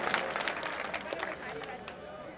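Audience applause at a mushaira poetry gathering in Bhopal, a dense patter of many hands clapping together in a hall, moderately loud and fading slightly, with voices mixed in.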